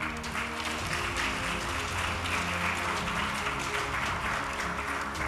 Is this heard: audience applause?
yes